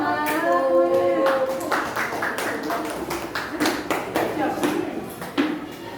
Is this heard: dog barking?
no